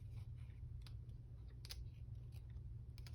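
Serrated scissors snip through paper, cutting out the middles of pages with a few quiet, scattered crisp cuts over a low steady background hum.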